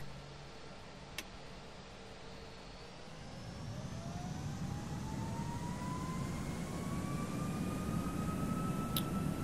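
Airliner jet engines spool up for takeoff in Microsoft Flight Simulator X, a low rumble that builds into a loud steady roar with a rising whine, broken by a couple of short clicks.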